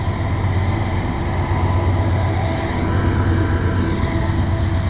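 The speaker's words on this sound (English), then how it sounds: "Oh, here it comes. The passing train." A train passes close by, a steady loud rumble with heavy low-frequency roar and wheel-on-rail noise that holds evenly for the whole stretch, with no voices over it.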